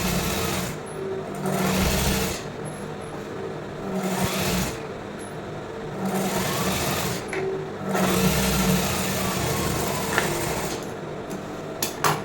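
A sewing machine stitches blouse lining fabric in close, rapid bursts of needle chatter separated by short pauses, with faint handling sounds between runs.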